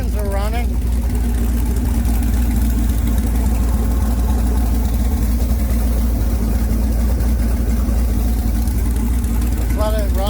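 An LS-swapped car engine idles steadily and close by, a continuous low rumble that holds unchanged throughout with no revving.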